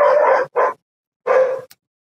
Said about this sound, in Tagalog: Ingay ng aso sa kapitbahay niyo.